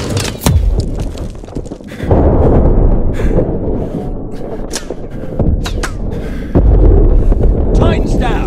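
Heavy launcher blasts bring down a Titan in the Call of Duty: Advanced Warfare video game, with loud booming explosions and thuds repeating through a sustained combat din while voices shout over the battle.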